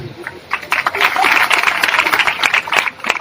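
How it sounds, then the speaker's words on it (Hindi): An audience at an Odia-language Christian sermon claps loudly together, a dense burst of hand claps that swells and stays busy for a few seconds, with a voice heard at the edges. "जोरे ताली बजे"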